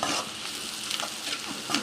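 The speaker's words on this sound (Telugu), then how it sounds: "దీన్ని ఒక 1 మినిట్ ఇలా ఫ్రై చేసుకుందాం." Chopped onion and crushed garlic fry in a pan for creamy white sauce pasta, giving a steady, close sizzle with stirring scrapes throughout and no talking.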